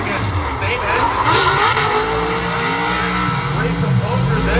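An LS-powered Nissan Z Proto drift car at a drift event, its engine roaring loudly with sustained tire squeal while a commentator talks throughout.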